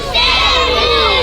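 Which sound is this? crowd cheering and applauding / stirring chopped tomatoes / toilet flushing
crowd cheering and applauding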